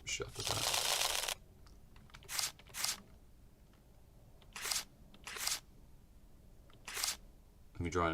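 A deck of cards for the Fable's End tabletop game being shuffled: a long riffling rush at the start, then several short crisp riffle bursts spaced apart, close and fairly quiet with faint background sounds in between.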